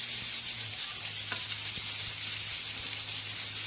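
Garlic and onion sautéing in hot oil in a pan, a bright continuous sizzle with occasional clicks of a spatula, close and steady throughout.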